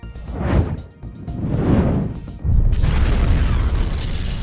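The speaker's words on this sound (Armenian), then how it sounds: "Մալթայում հրավառ նյութերի գործարանում պայթյուն է տեղի ունեցել" A fireworks factory explosion in Malta sounds as heavy, rumbling booms, a deep blast followed by a second larger one that gives way to a sustained roaring, crackling roll.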